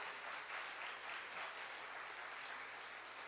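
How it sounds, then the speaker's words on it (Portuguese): A church congregation applauds in steady, dense clapping throughout, at an even level with no talk over it. "se você crê, você aplauda ao Senhor em nome de Jesus"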